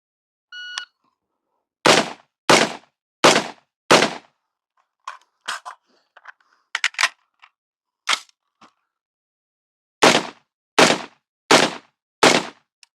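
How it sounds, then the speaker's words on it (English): Gunshots at 25 yards: four sharp, loud reports fired standing, then quieter clicks and handling noises during a reload in the kneeling position, followed by four more evenly spaced shots. "We will fire 4 rounds standing, go to a kneeling position, reload, and fire 4 more rounds kneeling."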